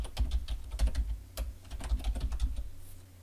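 Quick bursts of computer keyboard typing as a project name is entered during C# unit-testing setup, close and clear with short pauses between clusters of keystrokes, and no voices.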